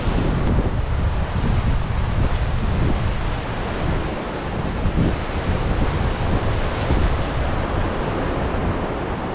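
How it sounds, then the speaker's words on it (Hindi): Steady, loud rush of a waterfall on the Katora Lake trek in Pakistan roars continuously and broadband, with gusty rumble underneath and no voices. "दरमियान में गिरती है आबशार नीचे गिरकर झरने में तब्दील हो जाती है"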